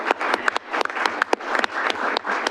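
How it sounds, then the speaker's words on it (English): A small group at a city council meeting applauds together, their uneven claps coming close and distinct at a lively, irregular pace, with no one speaking over them. "I feel like we should clap"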